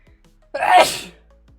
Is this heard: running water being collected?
no